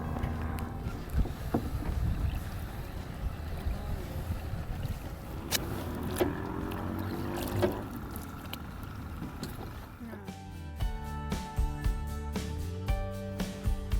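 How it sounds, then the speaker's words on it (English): Water sloshes and splashes around a small plywood proa as paddle strokes churn steadily, with wind buffeting the microphone and a brief clatter later on. "back to paddling duties"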